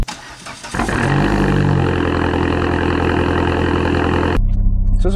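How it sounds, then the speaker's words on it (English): A Chrysler PT Cruiser SRT4 turbo engine starts from cold: a brief cranking, then it catches at about one second into a loud, deep, steady idle that runs close up and stops abruptly near the end. "Love the sound of this motor, especially when a cold startup has a really,"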